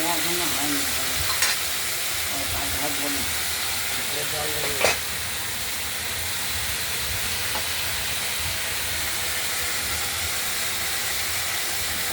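Cauliflower fries in hot oil with a continuous, even sizzle and hiss, broken by a couple of sharp utensil knocks against the pan.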